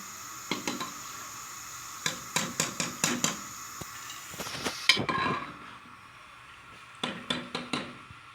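Crispy fried boondi being handled in a kitchen, giving quick bursts of sharp crackly clicks and clinks in clusters, with a brief scraping rustle in the middle, close by and without speech.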